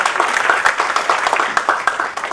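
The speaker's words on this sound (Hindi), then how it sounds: "मैं चाहता हूं एक बार जोरदार तालियां बजाकर उनका स्वागत करें।" A crowd at an evening music and poetry gathering claps warmly to welcome a woman poet to the stage, dense sustained applause close by with no talking.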